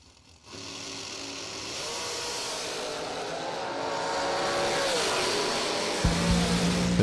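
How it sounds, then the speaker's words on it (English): A drag racing car with a true 392 Hellcat motor, driven by Bo Butner, roars steadily and loud, its pitch climbing gradually as it pulls hard before a sharp change near the end. "That's a true 392 Hellcat motor down in a 468."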